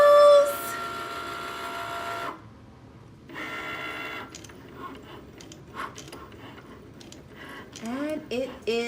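A Cricut Maker cutting machine draws with a pen, giving a whirring, clicking carriage movement that shifts in short mechanical strokes and motor hums, recorded close up, with some speech at the start.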